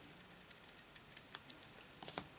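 Scissors trim through card for a pop-up card, producing a series of small, close, quiet snips and rustles that come irregularly, with a cluster near the end.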